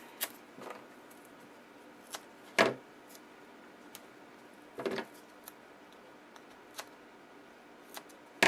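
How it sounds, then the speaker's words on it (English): Scissors snipping foam tape for a handmade card, a handful of sharp separate cuts spaced irregularly, close and clear over quiet room tone. "Grab my scissors."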